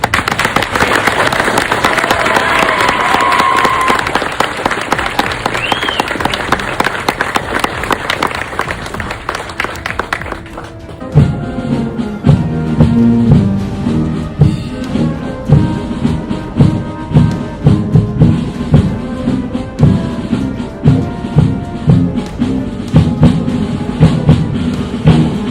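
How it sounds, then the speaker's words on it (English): At an infantry soldiers' graduation ceremony, a crowd applauds loudly for about ten seconds, then the clapping gives way to music with a marching rhythm that carries on for the rest of the span. "Ladies and gentlemen, please join us in giving these fine soldiers a round of applause."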